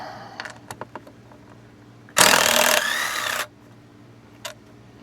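A power tool whirs for about a second and a half to back out a bolt from a watercraft ride plate, preceded by a few light taps and clicks, with one more click afterward.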